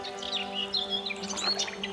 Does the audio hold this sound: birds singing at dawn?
yes